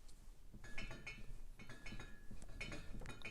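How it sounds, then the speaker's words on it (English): Glasses and bottles clinking at a home bar, a few light, ringing clinks repeating at irregular intervals, faint and in the background beneath a muffled television-like murmur. "You hear my bar clinking in the background."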